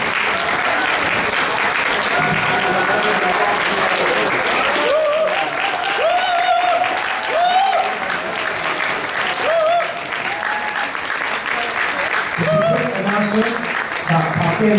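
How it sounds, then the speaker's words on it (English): A large forum audience claps for the speakers in sustained, dense applause, loud and continuous for about fifteen seconds, with voices talking faintly underneath. "we're going to give a big round of applause for Mr."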